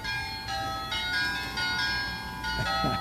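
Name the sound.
sleigh bells doorbell sound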